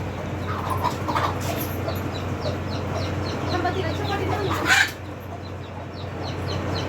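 Hens cluck softly and repeatedly over a steady background hum, with faint voices and a brief louder burst of noise.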